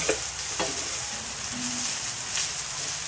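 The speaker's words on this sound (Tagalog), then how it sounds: "Isangag na natin ang kanin." Rice for garlic fried rice (sinangag) sizzles steadily in a pan, with a spatula scraping and stirring now and then; a close, continuous frying hiss with no talking.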